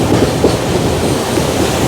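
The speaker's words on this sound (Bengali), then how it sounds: "আমাদের ট্রেন এখন পার করছে ফারাক্কা ব্যারেজ" A passenger train crossing the Farakka Barrage, heard from onboard as a loud, steady rumble with rhythmic wheel clatter throughout.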